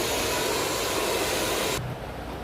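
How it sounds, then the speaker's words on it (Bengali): A blow dryer drying hair during a hair botox treatment gives a steady, loud, airy roar close by. It is brief, and its hiss drops away near the end. "দেন আমি ব্লো ড্রায়ার অ্যাপ্লাই করছি"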